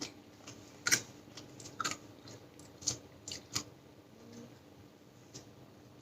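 Crunchy air-fried Gala apple chips being chewed, a few sharp crisp bites and crunches spaced apart over quiet, close and fairly faint.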